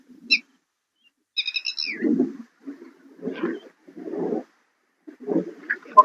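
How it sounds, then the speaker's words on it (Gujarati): Small birds chirping and calling near a water pot set out under a neem tree, scattered short tweets and a few softer low calls with quiet gaps between them. "તો આમાં પક્ષીઓ પાણી પીવે છે."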